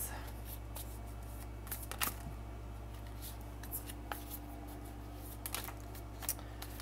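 Soft, irregular riffling and slapping of tarot cards being shuffled, with brief louder flurries over a quiet steady hum.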